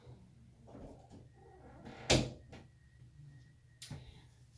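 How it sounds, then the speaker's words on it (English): An indoor door swings shut with a single sharp thud midway, followed later by a softer knock, close by against quiet room noise. "Let me close the door real quick."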